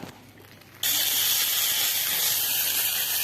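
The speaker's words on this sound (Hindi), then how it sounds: "तो चलिए गरम गरम तड़का हम लगा देते हैं।" Hot tadka poured onto dhaba-style methi dal bursts into a loud, sudden sizzle after a quiet moment, then keeps hissing steadily up close.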